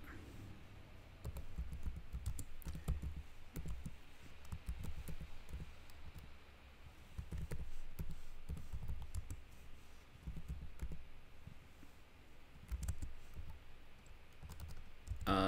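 Rapid, irregular clicks of fingers typing on a computer keyboard, close and moderately quiet, with brief pauses between bursts of keystrokes and no talking.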